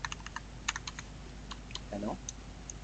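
Close computer keyboard typing comes in quick irregular clicks spread across the moment, fairly quiet, with a brief murmur of a voice partway through.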